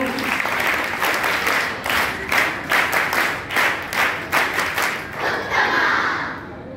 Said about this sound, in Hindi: बड़ा उत्साह के साथ उत्तम ताली बजाओ।